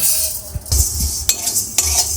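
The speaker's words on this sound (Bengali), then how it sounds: "শুকনো মশলাগুলো সব নাচতে শুরু করেছে" Coriander, fennel, fenugreek and cumin seeds dry-roasting in a dry pan (kadai), with several sharp scrapes and clinks of a spoon stirring the seeds over a soft background hiss, close and moderately quiet.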